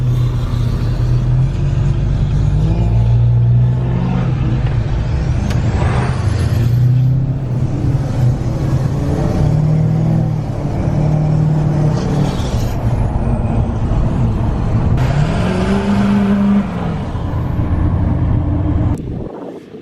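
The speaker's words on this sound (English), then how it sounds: "We'll get some sound clips for you guys of what it sounds like with the exhaust on there." Two tuned, deleted 2019 and 2020 L5P Duramax diesel pickups with new exhaust drive close by, giving a loud, continuous deep drone that rises and falls with revving and shifting throughout.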